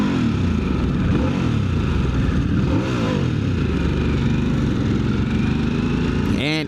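A 2025 Harley-Davidson Sportster S engine runs loud and close, with a deep, steady rumble and rising and falling revs throughout.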